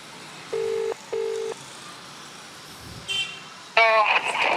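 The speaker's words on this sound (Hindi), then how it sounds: "आपके सामने दोबारा फ़ोन मिलाया है मैंने" A mobile phone being dialed for a call, two separate steady tones, then a short burst and a brighter ringing chirp, all close and clear over quiet room background.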